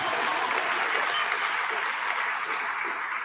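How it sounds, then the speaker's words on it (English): Applause from an audience at a Kentucky governor's award event fills the room, a steady, dense clapping that holds throughout without a break. "And I'll clap for that."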